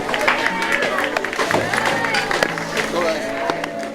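A crowd at a Junior League World Series baseball game cheers and claps for the winning team, with continuous dense shouting, applause and overlapping voices throughout.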